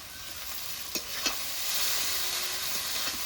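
Boiled chowmein noodles fry with spices in a hot wok, a quiet, steady sizzle broken by two sharp stirring clacks early on and faint scraping later.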